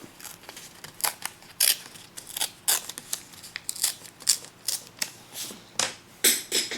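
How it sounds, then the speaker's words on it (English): Origami paper being creased and torn while making a rose stem and leaf, heard as a series of short, crisp rips and crinkles at close range, fairly quiet and with no talking. "Crease it in. And then tear it."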